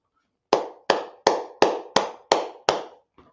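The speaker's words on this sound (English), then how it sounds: "Fans are standing and cheering" At a Rutgers vs Indiana college basketball watch party, seven sharp, evenly spaced hand claps ring out close and alone in a slow, steady rhythm, followed by a faint final tap and no cheering.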